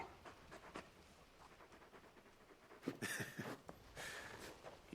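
Torgal, the large wolf-like dog companion in Final Fantasy XVI, pants quietly in quick rhythmic breaths, faint and close, rising into a few louder huffing bursts near the end.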